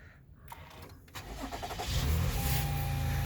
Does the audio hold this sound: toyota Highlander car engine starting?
yes